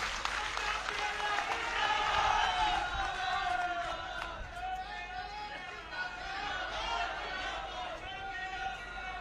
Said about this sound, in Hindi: महिलाओं की ताली बजी है